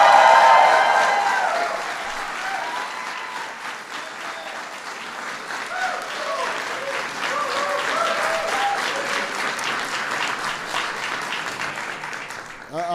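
An audience at a Heritage Month event applauds loudly, the dense clapping fading slightly and then holding steady for several seconds, with faint voices and cheers mixed in.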